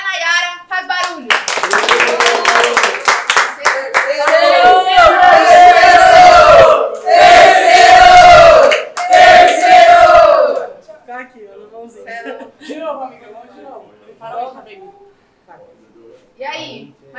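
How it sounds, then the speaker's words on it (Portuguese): Crowd at a Brazilian rap battle clapping and cheering loudly, with whoops and shouting for several seconds before dying down to scattered voices and a few claps. "Quem gostou das rimas da hora, Nayara, faz barulho"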